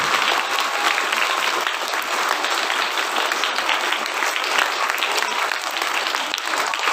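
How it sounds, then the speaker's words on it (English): Sustained audience applause fills a school assembly for a primary class, a dense steady patter of many hands clapping at even loudness throughout, with no pause. "give them a thunderous clap for the 4th B"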